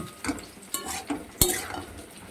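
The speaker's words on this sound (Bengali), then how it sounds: "দিয়ে মশলাগুলোর সঙ্গে ভালো করে সবজিগুলোকে ভাজবো।" Vegetables with spices and coriander powder are stir-fried for a prawn and pumpkin curry: light sizzling under repeated spatula scrapes and knocks against the pot, with one sharp metallic clack midway.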